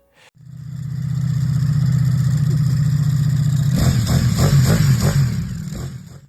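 A Ducati Multistrada V4 RS sport touring motorcycle engine hums steadily at idle, then blips sharply through several quick, loud revs before settling, heard close with no talking.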